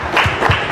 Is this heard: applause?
yes